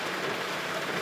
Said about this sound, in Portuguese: Chuva abençoada, chuva boa demais da conta.